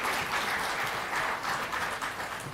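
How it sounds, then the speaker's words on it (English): Audience at the Devi Awards in Chennai, an awards evening honouring women, applauds in a steady, dense wash of clapping that holds at an even level throughout, with no voices over it. "Little louder applause would be nice"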